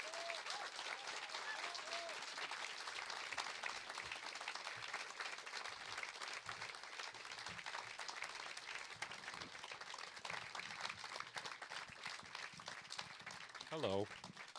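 Sustained audience applause fills a festival hall in Deauville as American film director James Gray is welcomed on stage, steady and dense throughout with a brief voice or whistle near the end.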